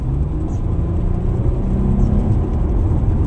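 A 2009 Mercedes-Benz S300L V6 W221 long-wheelbase sedan accelerates on an open road in comfort mode, heard from inside the cabin as a steady, loud, low engine rumble and road whir.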